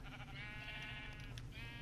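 A single sustained sheep bleat from the video game Minecraft, a wavering nasal cry lasting nearly two seconds, clear and close with no talking over it.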